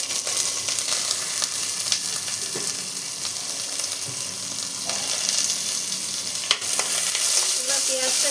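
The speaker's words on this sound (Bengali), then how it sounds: "এবার পেঁয়াজটাকে আমি ভেজে নেব, খুব বেশি ভাজবো না, হালকা করে ভাজবো।" Onions sizzle and crackle in hot oil in a pan while being stirred, with scraping stir strokes over a constant fry hiss and a sharp clatter near the end.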